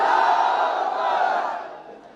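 A large crowd at a public political rally in Malegaon roars a loud, sustained chanted response, many voices merging into one powerful shout that slowly fades.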